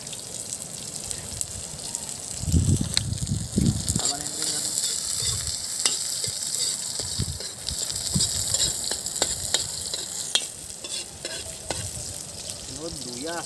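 Garlic and onion fry in a pan with a continuous close sizzle, punctuated by scraping stirs and clinks of the utensil against the pan.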